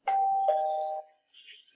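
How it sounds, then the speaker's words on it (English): Doorbell in Minecraft, a clean two-tone ding-dong chime, clear and close, followed by a faint trailing tone. "But here we have the fences, a mailbox, and a doorbell."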